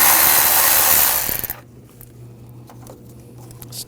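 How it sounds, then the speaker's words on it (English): A power tool with a T30 socket spins out screws holding the engine cooling fan of a 2006-2009 Audi 4.2L V8, giving one loud, sustained whir up close that cuts off abruptly into near quiet. "Using a T30 socket, take these screws out."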